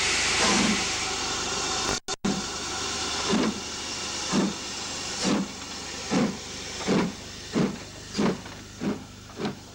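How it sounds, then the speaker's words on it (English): A Britannia class steam locomotive backs out with its train on the North Wales coast line, a steady loud hiss overlaid by rhythmic chuffs that grow sharper and more regular as it moves. "As the Britannia backs out with her recently arrived train"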